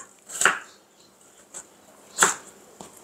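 Knife chopping meat into cubes for a meat-and-potato pot dish, two distinct crisp board strikes with a few fainter taps between them, close and alone.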